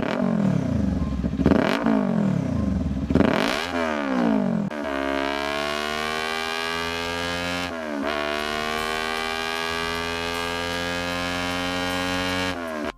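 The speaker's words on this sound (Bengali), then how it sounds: "চলুন হালকাভাবে এক্সজস্টের সাউন্ড শোনা যাক।" A Kawasaki Ninja 400 twin-cylinder motorcycle exhaust is revved a few times, then settles into a steady, loud idle that drones on close by, with no talking.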